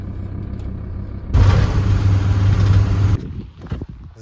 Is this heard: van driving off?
yes